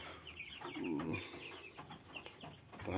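Week-old broiler chicks in a Ukrainian poultry house give dense, overlapping high cheeps close by, with a voice talking over them now and then.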